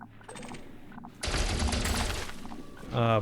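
Rapid gunfire in the Elite Dangerous space game, a dense loud burst of shots fired at targets without using the turret, continuing steadily for a couple of seconds over game ambience with a faint voice at the end.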